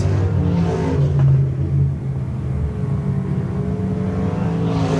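Stock cars race around Shelby County Speedway, a loud, steady engine roar and rumble holding for the whole stretch with slight swells as cars pass close by.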